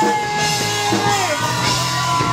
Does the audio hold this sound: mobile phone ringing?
no